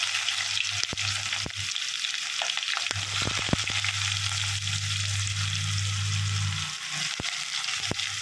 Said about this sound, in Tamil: நல்லா பொரிஞ்சு நல்லா சவுண்டு வந்துடுச்சு. இப்போ வெங்காயத்தை போட்டுக்கலாம்.